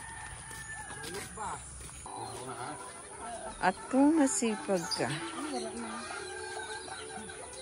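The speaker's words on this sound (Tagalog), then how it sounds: "ang daming manok nila." Many plump chickens cluck and a rooster crows nearby in a rural farmyard while a person talks over the noise.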